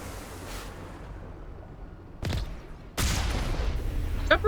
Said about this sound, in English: Shepard, is there any particular reason you're firing off the main cannon?